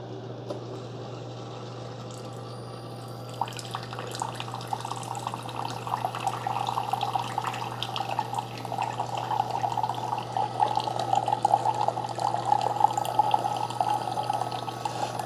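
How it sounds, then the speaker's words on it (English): A Keurig K-Supreme Plus brews a hot chocolate K-Cup, a steady low hum under a trickling, gurgling stream of liquid pouring into a cup that grows slightly louder over fifteen seconds. "on the K-Supreme Plus, I'm going to hit the brew button"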